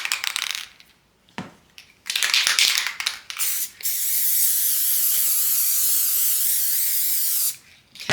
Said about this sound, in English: I'm just going to spray some spray adhesive